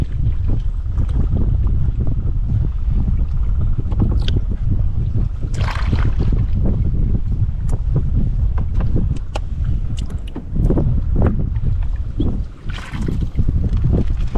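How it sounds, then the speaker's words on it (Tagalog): Strong wind roars and buffets the microphone continuously, with low rumbling gusts and occasional water slaps, loud and unbroken throughout. "Lumalakas na yung hangin."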